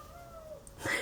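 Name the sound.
cat meowing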